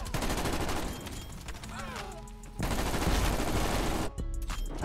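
Vargo 52 assault rifle in Call of Duty Cold War, firing in dense automatic bursts, loud and close, mixed with game effects and brief pauses between strings of shots.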